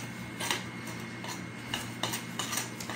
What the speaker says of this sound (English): So let me mix it up a little more.